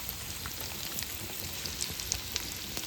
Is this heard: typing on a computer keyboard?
no